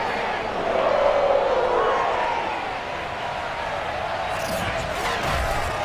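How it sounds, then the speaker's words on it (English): A sold-out stadium crowd of Cincinnati Bengals fans roars continuously in Madden 22, a broad steady wash of cheering that swells slightly early on, heard over a voice talking. "The enthusiasm of this Cincinnati crowd in full effect a moment ago as their Bengals took the field to the delight of this sold-out crowd"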